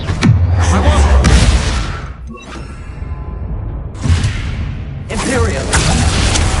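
Expelliarmus spell cast during a Hogwarts Legacy duel: a heavy whooshing magical burst with thumps, then a pause and another surge of spell effects, with voices over the combat.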